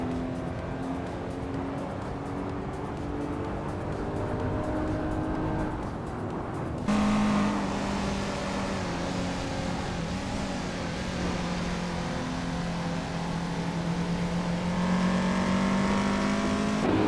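A field of vintage race cars, including a 1985 Peugeot 205 T16, roars off the start at Bremgarten in a racing video game, engines droning and revving together in a sustained loud blend, pitch climbing through gear changes.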